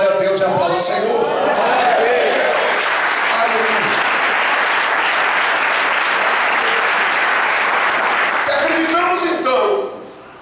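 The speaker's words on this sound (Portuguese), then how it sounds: "diga glória a Deus e aplauda o Senhor" Church congregation applauding the Lord during a sermon. Loud, dense clapping fills the room for about ten seconds, with voices cheering around it at the start and end, then stops abruptly.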